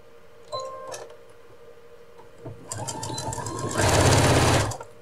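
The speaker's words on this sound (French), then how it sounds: "Je vais les coudre juste donc sur la hauteur." A sewing machine stitches the side bands of a retro apron in short bursts, starting and stopping close by, then running in a louder, faster steady whir near the end, with no talking.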